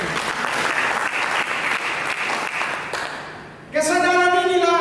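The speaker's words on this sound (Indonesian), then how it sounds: "Berikan tepuk tangan." Church congregation applauding during a sermon, a dense, loud wash of clapping that fades out before a voice begins speaking near the end.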